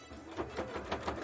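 A sewing machine stitches in a brief run of quick, evenly spaced mechanical taps, close up and fairly quiet.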